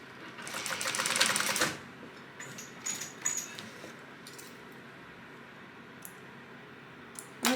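A sewing machine stitching a crossbody bag in a quick loud burst, followed by quieter clicks and handling noises.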